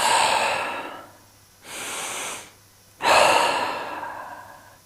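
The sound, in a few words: yoga breathing, slow inhales and exhales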